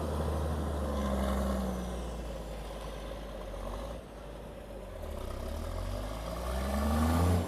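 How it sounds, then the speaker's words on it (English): A tractor drives back and forth over an earlage pile, packing it down. Its engine gives a steady, fairly faint low rumble that swells and eases slightly as it moves, with no talking. "he's just been driving over it with the tractor, just smashing it down"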